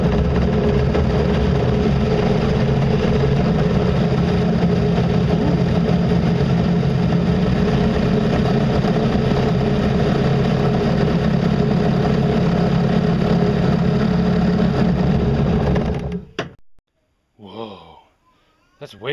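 Temporarily hooked-up motor on an ultralight solar speedboat runs steadily with a close, loud, continuous hum and vibration for most of the stretch, then cuts off abruptly, leaving near silence with a few faint knocks.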